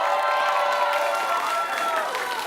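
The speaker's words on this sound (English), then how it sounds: "Big round of applause to them" A school quiz-competition audience gives a dense burst of applause and cheering, loud and continuous throughout with shouts mixed into the clapping.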